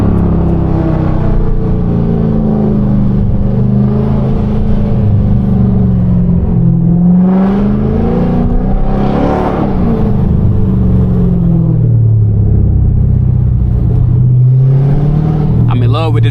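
A Dodge Hellcat's loud, deep engine rumbles and revs up and down continuously while cruising through downtown Charlotte, with a voice talking over it.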